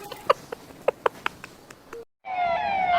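After a few soft taps and clicks and a brief silence, a police siren wails in, steady and fairly close.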